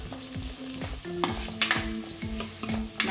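Chopped onion and green chillies sautéing in a pan, with a continuous sizzle under frequent close scraping stirs of a spoon and a few sharper bursts of crackle.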